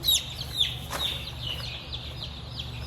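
Several hens clucking nearby, short repeated calls overlapping at an irregular pace, with a soft outdoor background.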